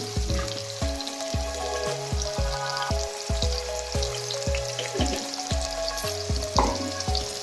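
Brinjal frying in a pan, a steady close sizzle behind a repeating tonal melody that plays throughout.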